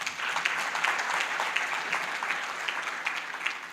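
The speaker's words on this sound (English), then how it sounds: "let's give him a better clap than that" Audience applause at a biomedical and biotechnology conference, a few seconds of moderate, steady clapping from a seated crowd in a hall, fairly even throughout.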